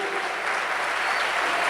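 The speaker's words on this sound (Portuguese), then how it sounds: "Pode aplaudir a Jesus." A church congregation claps together in steady, dense applause, a continuous wash of hand claps that holds at an even level and swells slightly toward the end, with no voices over it.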